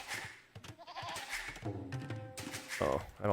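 Sheep bleating in the video game Age of Empires II, a short wavering bleat heard among game sounds with someone talking over it.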